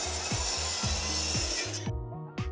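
A 2021 SKIL 10in 15 amp dual bevel compound mitre saw with its stock blade whines loudly through wood, with the pitch dipping under load, then spins down and stops abruptly.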